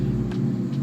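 A car drives past outside, a low steady rumble heard briefly and fairly close.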